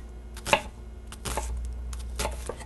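Knife chopping a whole onion on a board for beef stroganoff, a few distinct close chops with sparse pauses between them and no talking.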